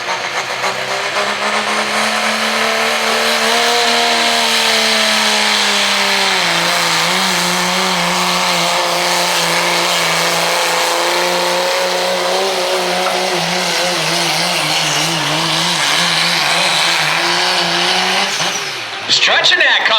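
A Cummins diesel engine in a pulling truck at a truck-pull event in Snyder County, Pennsylvania, roaring loud and steady under a long strained pull, its pitch wavering as it is stretched out, with an announcer talking over it.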